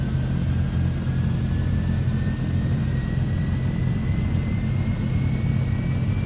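Steady, loud turboprop engine drone of a C160 Transall restarting in a flight simulator game, a dense low roar with a faint rising whine sustained throughout, no talk.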